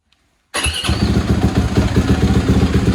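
A snowbike engine starts after a moment of silence and settles into a loud, close, throbbing idle with a rapid, steady pulse.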